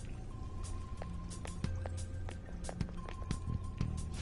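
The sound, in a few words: footsteps approaching in Persona 5 Royal video game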